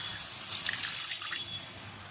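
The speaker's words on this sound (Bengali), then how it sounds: "এবার আমি এর মধ্যে একটু জল দিয়ে দেব" Water from a rinsed spice bowl poured into a pan of kadai paneer curry masala, a steady close splashing pour of about two seconds with no talk.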